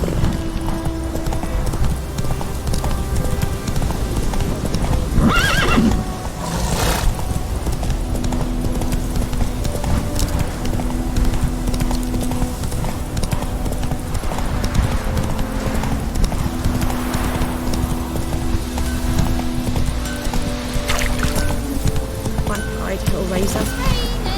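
Roach the horse gallops in The Witcher 3, rhythmic clip-clopping hooves drumming steadily throughout with a brief whinny-like burst early on, under a man's speech and game music.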